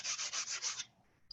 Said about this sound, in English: you take a very smooth sanding block